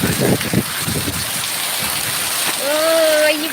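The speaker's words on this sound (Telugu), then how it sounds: "వర్షం విపరీతంగా ఉంది" Heavy rain pours down in a village in Konaseema district, a loud, steady, close hiss and patter throughout, with voices briefly heard over it at the start.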